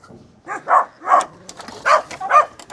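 A dog barks in five sharp, evenly spaced yaps, close and fairly loud, with a little background noise between them.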